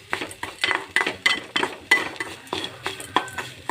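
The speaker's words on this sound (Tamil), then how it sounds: "தேங்காய் கடலப்பருப்பு கொத்தமல்லாம் நல்லா வறுத்துக்கோங்க" Coconut, chana dal and coriander being dry-roasted in a pan make a rhythmic series of scrapes and light metallic clinks from steady stirring, with a faint sizzle underneath.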